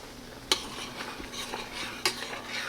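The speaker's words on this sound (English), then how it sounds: "Stir it together." A spoon stirs oats and water in a pot on the stove, scraping and clinking against the metal with two sharper knocks on the rim, a steady close kitchen texture with no talking.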